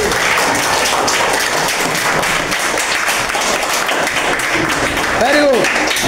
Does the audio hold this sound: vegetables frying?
no